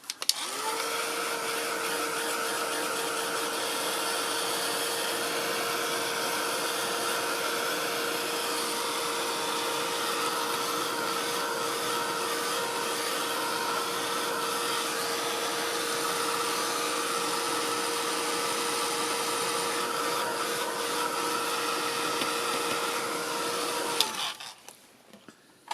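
A dryer blows steadily on glue spread over a mixed media postcard, a loud, constant whirring hum with a faint tonal whine, running alone for about twenty-four seconds before switching off.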